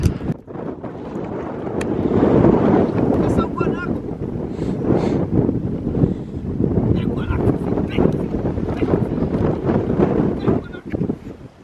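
Strong wind buffets the microphone outdoors in gusts that swell and ease, loud and close, with voices talking through it.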